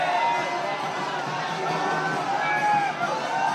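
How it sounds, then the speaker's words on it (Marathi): Dense crowd of Maratha protesters packed into CSMT railway station in Mumbai, a continuous loud roar of overlapping voices and shouts with no pauses, close and filling the space throughout. "CSMT रेल्वे स्टेशनवर अशा प्रकारे मोठ्या प्रमाणामध्ये मराठा आंदोलकांची ही सगळी गर्दी जमलेली आहे"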